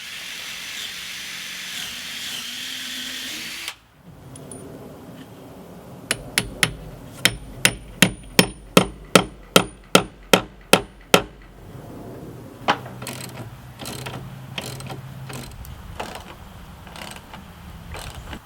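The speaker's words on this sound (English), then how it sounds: "the first step is to pre-drill into the post with a 3/16" drill bit" A drill whirs briefly, pre-drilling a barn post with a 3/16-inch bit, then about a dozen sharp ratcheting clicks repeat steadily as 3/8-inch lag bolts are driven, followed by quieter mechanical tool noise and scraping.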